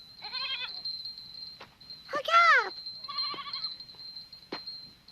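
A herd of goats bleats close by in wavering, quavering calls, one long and loud in the middle and shorter cries before and after, with a voice speaking briefly.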